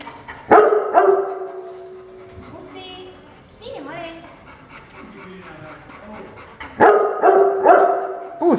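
A dog barks in loud bursts at the start and again near the end, with panting and a soft whimpering sound in between, while people talk during a ball game.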